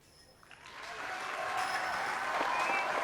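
A crowd at the disc golf European Open in Nokia claps and cheers, building quickly to a dense, steady wave of applause that holds to the end.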